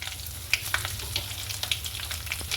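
Chana dal, urad dal, mustard seeds and dried red chillies fry in hot oil for a Guntur-style tamarind rice tempering, giving a steady close sizzle with scattered sharp pops and crackles throughout.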